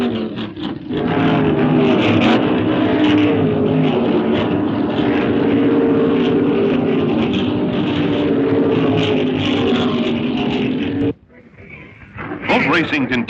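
Loud, continuous engine roar of vintage racing powerboats on water, sustained for several seconds before dropping off briefly and surging again.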